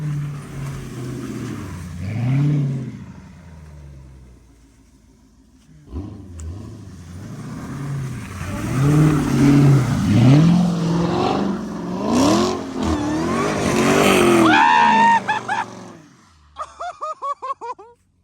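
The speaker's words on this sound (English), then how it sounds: "Y'all heard that supercharger screaming at you?" A Dodge Hellcat's supercharged engine roars and revs repeatedly while sliding in snow, its pitch climbing and falling with a high supercharger whine on top, loud and close, ending in short bursts.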